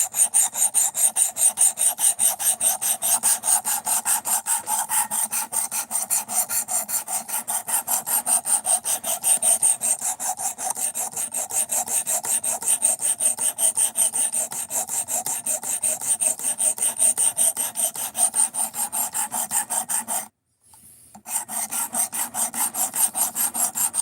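Hand sanding with 220 grit abrasive on a knife blade, a fast, evenly rhythmic scratchy rasp of back-and-forth strokes that runs steadily, pausing for about a second near the end before resuming.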